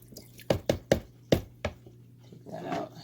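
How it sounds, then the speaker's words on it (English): An aquarium filter being rinsed in a bucket of water treated with Stress Coat gives five sharp, close splashy knocks in an irregular rhythm, then a softer swishing of water trailing off. "And I'm rinsing it in this water"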